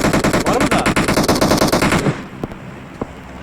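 Automatic gunfire from the PUBG Mobile game rattles in a rapid, loud burst for about two seconds. It then cuts off, leaving a couple of faint isolated shots or clicks.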